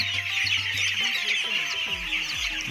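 Broiler chicks on a poultry farm during vaccination, chirping constantly in a dense, high-pitched chorus, with occasional lower clucks and handling noises close by and no talk.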